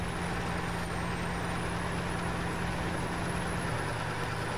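Mini Monster truck in SnowRunner grinds along with a steady, loud engine drone and low rumble, holding constant throughout with no talk.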